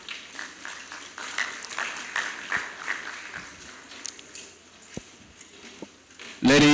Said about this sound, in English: A louder round of applause for our Veritas University Band.